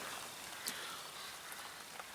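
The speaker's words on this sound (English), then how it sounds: "here comes the rain again" Rain falling outdoors at a carp fishing lake, a faint, steady patter with a few sharper drops standing out.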